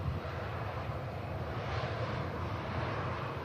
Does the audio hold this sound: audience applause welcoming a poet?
no